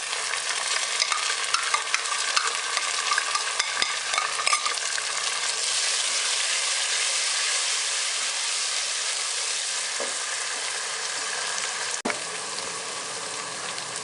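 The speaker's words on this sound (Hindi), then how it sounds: "टमाटर ऐड कर रहा हूँ मैं" Tomatoes tipped into a frying pan for an aloo palak chicken curry and stirred, giving a dense continuous sizzle with scraping stir strokes and small taps, close and without speech.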